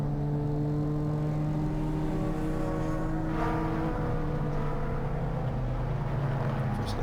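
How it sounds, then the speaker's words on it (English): Racing cars at a Donington Park trackday event, including a Renault Clio, with a continuous loud engine drone and a steady tonal whine that swells briefly as a car passes, heard at a distance with no talking. "that's Cameron McLean, I think, that's behind at the wheel of his Renault Clio, fighting away."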